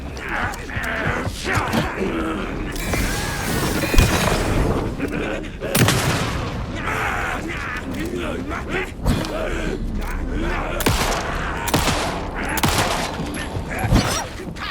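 Gunfire in the Alan Wake 2 video game: a string of sharp, loud shots at uneven intervals over a tense background, with brief voices and breaths between bursts.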